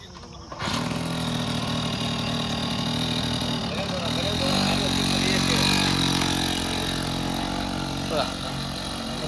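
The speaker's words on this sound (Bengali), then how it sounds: "দেখো হিরো হন্ডা স্টার্ট করবে" A Hero Honda motorcycle engine starts abruptly and settles into a steady, loud idle nearby, with a rough, throbbing rumble; people talk over it.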